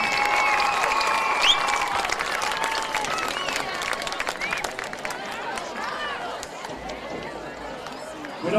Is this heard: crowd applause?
yes